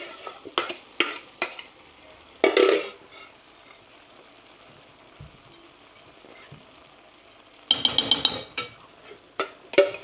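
Rice being added to a vegetable dum biryani pot on very low gas, with stirring scrapes and soft sizzling and several sharp utensil knocks against the pot in bursts, close up and with no talking.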